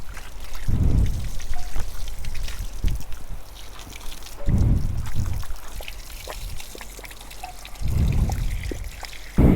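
Water poured over a Himalayan 411 motorcycle to rinse off foam spray during a home wash, heard as three loud splashing bursts separated by steady trickling and dribbling, with no talking.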